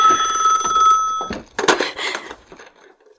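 A telephone bell rings loudly in a home in steady bursts for just over a second, then cuts off, giving way to a few clattering handling noises and a quieter tail.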